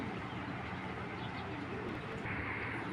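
Colouring Giribaz pigeons coo in a steady, continuous murmur of soft calls over a constant background hum, with no clear pauses across the few seconds.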